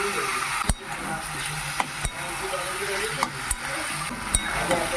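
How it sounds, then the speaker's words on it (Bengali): Boiled taro stolons stir-fried with salt, turmeric and spices in a pan: a low, steady background with faint, evenly spaced taps and scrapes, some voice present. "ভালো করে কষে নিচ্ছি তো কচুর লতিটা রান্না হয়ে গেল"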